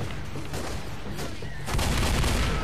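Rapid gunfire crackles through a Left 4 Dead zombie match, a dense burst of shots that grows louder and heavier partway through, with a few voices faintly underneath.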